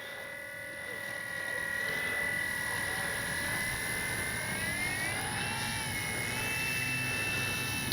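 An FGFRC RV8 Blue Knight RC airplane taxis on the ground, its electric motor giving a steady, fairly close whine that climbs in pitch partway through and then holds.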